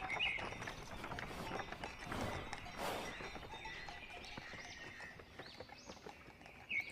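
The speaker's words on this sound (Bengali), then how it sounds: "আমরা ভোর ভোর গরুর গাড়ি করে জুনপুটের উদ্দেশ্যে রওনা হলাম।" A bullock cart travels along a village road at dawn toward Junput, with faint, steady clopping and rolling under distant bird chirps throughout.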